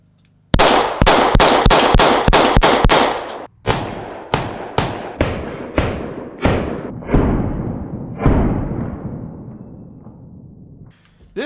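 A pawn-shop Hi-Point C9 9mm pistol fires until empty: roughly eighteen loud, close sharp shots, a rapid string at first, then slower evenly spaced reports with a lingering echoing tail, no talking.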